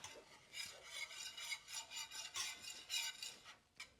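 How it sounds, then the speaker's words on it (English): A whisk scrapes and swishes rhythmically in a pan, working flour into gravy for chicken fried steak; quiet repeated strokes with no talking. "Just wanna make sure all of that is whisked out"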